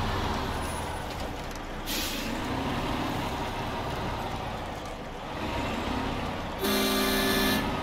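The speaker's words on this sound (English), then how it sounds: "So I made the horn honk." Truck horn honking in the SnowRunner video game at Rogers Point, a short toot with steady harmonic tones near the end, over continuous engine rumble and ambient noise, with a brief burst of air-brake hiss earlier.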